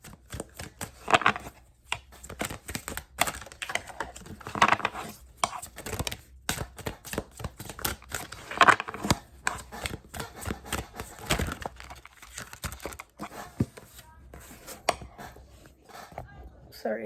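Tarot cards are shuffled in a quiet room during a reading, giving a dense run of soft riffling clicks and taps that continue for many seconds, close and fairly faint, with occasional speech between them.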